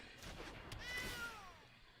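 A single short cat meow, faint and clean, rising then falling in pitch over about a second, played as a Double Cat card in the MTG Arena card game.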